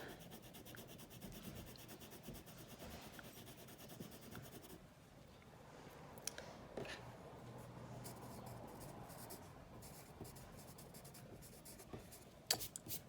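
Crayons rubbing and scratching across paper laid on a cutting mat with some cuts in it, a steady close scribbling rasp drawing rainbow colors, continuous throughout with brief sharper scrapes and no talk.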